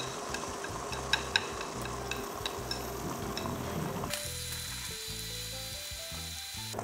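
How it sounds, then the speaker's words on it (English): Eggs frying in hot oil in a non-stick pan over medium heat give a steady, close sizzle with small crackles, while soft background music plays throughout without any voices. "When the oil is hot, add in your eggs."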